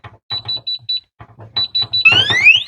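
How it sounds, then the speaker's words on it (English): Biometric safe's alarm siren sounding after too many wrong code entries: loud, repeated electronic beeping bursts, then a rising, sweeping siren tone near the end. "So that siren is going to go off for about 20 seconds or until you open it with one of your codes."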